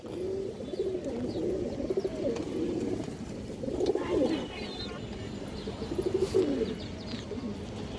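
Kaldom pigeons coo in repeated rolling bursts, close and fairly loud, with a few faint higher chirps from other birds between the calls.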